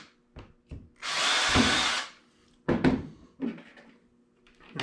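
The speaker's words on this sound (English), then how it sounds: "I always like to just pre-drill the holes." A power drill with a 5/64 bit pre-drills screw holes for a portable fish finder build, one whirring burst of about a second, close and loud, with knocks and clunks of handling before and after.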